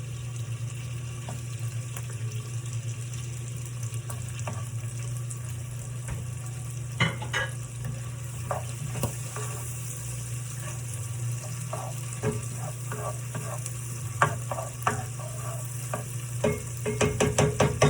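Roughly chopped green and red peppers frying in a pan: a soft, steady sizzle under a low constant hum, with scattered clicks and clatters of stirring that grow busier toward the end, and no voices.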